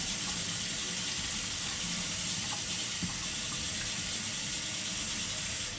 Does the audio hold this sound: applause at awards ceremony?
no